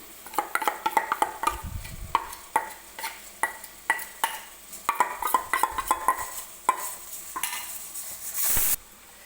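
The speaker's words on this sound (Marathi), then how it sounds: "आता आपण वाटून घेतलेली डाळ सुद्धा याच्यामध्ये टाकून घ्यायची आहे, म्हणजे दोन्ही एकत्र छान अशा तुपामध्ये भाजले जातील" Ground moong dal and semolina roasting in ghee in a pan, with frequent metallic scrapes and clinks of the spoon against the pan over a soft sizzle, close and rhythmic.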